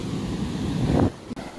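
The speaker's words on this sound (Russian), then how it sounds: "чудный сегодня суровый океан." Rough ocean surf rolls onto the southern English coast, a steady broad wash of breaking waves mixed with wind buffeting the microphone, then easing off near the end.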